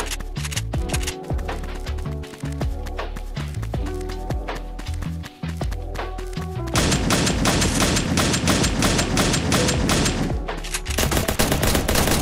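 A gold drum gun fires in Fortnite in rapid, continuous bursts of loud gunshots that run almost unbroken through the clip, with other game sounds mixed in.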